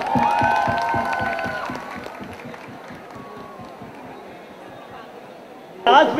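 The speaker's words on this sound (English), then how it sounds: "Clap your hands, Mithil bhai." A music launch audience for the film Jackpot claps and cheers, with rhythmic group clapping and shouts near the start that fade into crowd murmur, then a sudden burst of cheering at the end, with voices mixed throughout.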